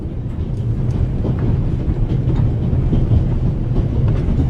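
A moving train rumbles in The Raven Remastered video game, a loud, steady low rolling drone with faint rhythmic rattling throughout.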